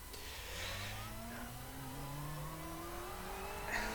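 Ferrari 488 GTE race car engine in the iRacing video game, a smooth, steady engine note rising in pitch as it accelerates, heard alone at moderate volume.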